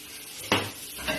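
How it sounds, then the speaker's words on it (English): Short hissing sizzle bursts from butter in a hot frying pan, two quick crackling flares over a quiet background, close by. "we take our frying pan, which is nice and hot, and we're going to coat it in butter"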